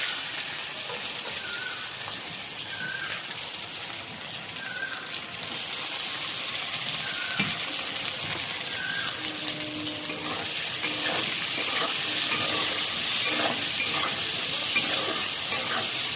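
Onion, green chili, garam masala and bay leaf frying in oil, a continuous close sizzle with occasional stirring scrapes, growing slightly louder partway through.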